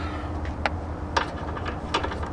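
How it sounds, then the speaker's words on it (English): A ratchet wrench clicks in several short bursts of close, sharp ratcheting while working on the rear tire of a Suzuki SC52 motorcycle, with brief pauses between turns and no talking. "Sometimes a good old-fashioned ratchet is just the way to go."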